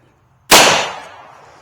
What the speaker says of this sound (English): 1 round of 220 grain stealth subsonic ammo, and let's see what it does to it